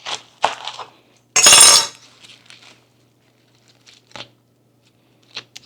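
A Cuisinart knife chops vegetables in a kitchen, with a sharp clatter as the pieces are tossed into a bowl, followed by a few quieter knife taps and clinks.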